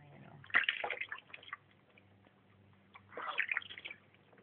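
Water runs and splashes in short close bursts during a baby's morning shower, with quiet gaps between the pours.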